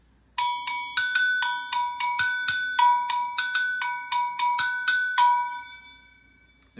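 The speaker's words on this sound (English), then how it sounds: "Another is agogo bells." Agogo bells ring in a quick, even rhythm of about fifteen bright metallic strikes, each note clear and ringing. The strikes switch between the higher and lower bell, played close and alone, and the last tone fades out.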